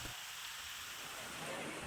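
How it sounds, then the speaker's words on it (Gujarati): Heavy monsoon downpour in Saurashtra, Gujarat, a dense, even hiss of rain falling on surfaces, fairly faint and steady over a couple of seconds. "સરસિયા અને માલસિકા ગામમાં પણ ધોધમાર વરસાદ વરસ્યો"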